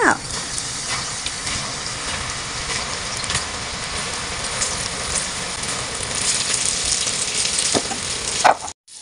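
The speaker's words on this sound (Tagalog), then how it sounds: "pwede na nating ilagay yan sa kumukulong mantika" Loud, continuous sizzling and hissing of tofu frying in hot oil, steady throughout with a few small pops and scrapes.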